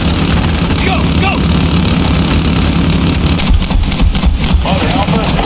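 A military vehicle engine rumbles continuously with a heavy low drone in a Medal of Honor Warfighter battle scene, loud and steady, with voices and battlefield noise layered over it.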